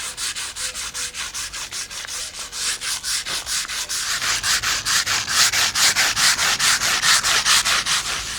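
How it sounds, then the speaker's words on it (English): Steady rhythmic scraping of a wire brush on wooden posts at a container house entrance, repeated strokes about two per second, close and fairly loud, growing stronger as it goes. "Just to get the loose stuff off, she's just wire brushing them all."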